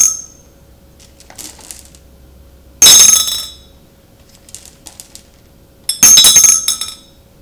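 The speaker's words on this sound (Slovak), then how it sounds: "Takto dieťatko pracuje s guličkami a sklenenou fľašou." Glass beads dropped by a child into a glass bottle: scattered light clinks, then two loud bursts of rattling, chinking glass about three seconds apart, close and without talk.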